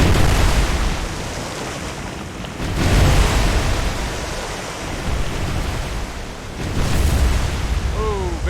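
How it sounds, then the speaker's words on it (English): Deep, sustained rumbling roar of a warship's secondary explosion in the naval combat game War On The Sea, swelling in loud bursts around three and seven seconds with a faint rising whistle near the end. "Secondary explosion."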